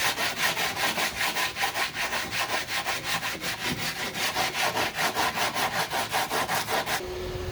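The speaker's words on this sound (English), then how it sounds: "I sand the high spots and ridges until I get the texture I desire" Rhythmic back-and-forth sanding of cured cement coral rock texture in a bathroom, with quick, even abrasive strokes repeating steadily and close up before stopping abruptly near the end.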